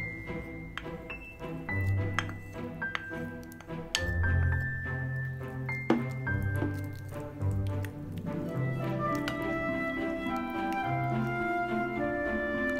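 Butter and garlic being mixed in a glass bowl for garlic butter, with repeated clinks and taps of a utensil against the glass throughout, close and fairly steady, no talking.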